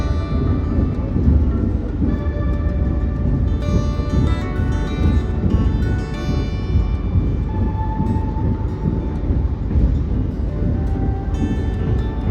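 Steady rumble and rolling rail noise fill the cabin of the Senja Utama passenger train as it runs toward Jatinegara station, a continuous loud drone with faint tonal hum from onboard equipment.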